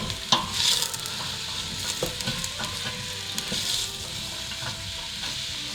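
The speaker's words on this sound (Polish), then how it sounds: "Smażę tak długo, aż marchewka zacznie być miękka." A pan of vegetables including carrot fries in olive oil with a steady, close sizzle, while occasional stirring knocks and scrapes break through.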